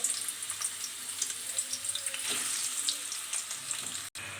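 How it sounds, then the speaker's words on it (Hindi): Steady crackling sizzle of onions sautéing in hot oil for chicken korma, close and continuous, with occasional scraping stirs and pops. "तो इसमें हम अनियन ऐड कर देते हैं। अनियन को करेंगे सौते।"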